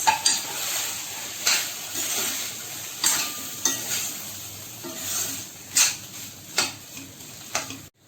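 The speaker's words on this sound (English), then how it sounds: "So I'm just going to add these potatoes at this stage. And we are going to give it a nice mix." Boiled potatoes are mixed into a frying samosa filling in a pan. A steady sizzle sits under repeated scraping strokes of the spoon, with occasional clinks against the pan in an uneven rhythm.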